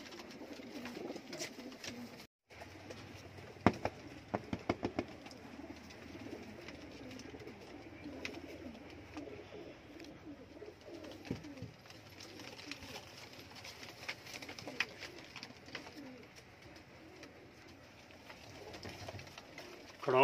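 Teddy pigeons painted in colours coo in a soft, low, steady murmur from several birds, with occasional wing flutters and faint clicks over a constant background hum.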